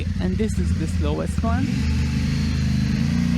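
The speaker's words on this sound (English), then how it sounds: "you could hear in this area how much the engine rev up" An adventure motorcycle climbs a short, steep off-road slope without momentum, its engine revving in a steady mid-range drone throughout, with someone talking briefly over the start.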